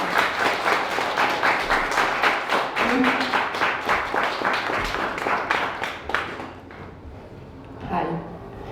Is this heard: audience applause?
yes